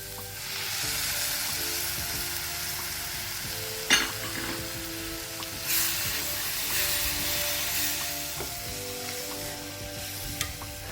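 Masala and tomato puree for chana masala fry steadily in a pan with a continuous loud sizzle and hiss, broken by a few sharp clinks of stirring near the fourth second and again later.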